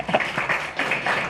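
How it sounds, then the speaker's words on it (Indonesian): Light applause from a small group at a sales commission meeting, a brief patter of claps in several soft bursts, fairly close and fading quickly. "Tepuk tangan buat GM lah."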